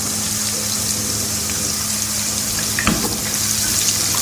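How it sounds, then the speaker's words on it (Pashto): Water goes into a pan of sizzling spices for Peshawari lobia, a close rushing, frothy hiss with a sharp burst of bubbling about midway, then a steady simmer. "اوس شانتې اوبه دې کې واچو چې مساله پخه شي"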